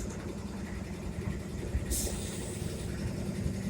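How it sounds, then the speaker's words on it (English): A CSX diesel locomotive engine idles with a low, steady rumble that holds evenly, a brief hiss breaking in midway. "You want to hear the engine on this guy?"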